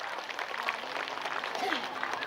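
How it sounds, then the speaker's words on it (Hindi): Audience applause at a Sahu community conference and award ceremony, a moderate, continuous patter of clapping in a hall with a voice speaking over part of it. "एक बार ताली बजा दीजिए जोरदार।"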